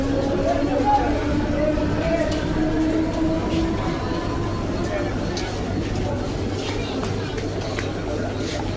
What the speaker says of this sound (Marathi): local arrived on platform number 2 is 9 hours 48 minutes 12 car slow local for Chhatrapati Shivaji Maharaj terminus via Harbour Line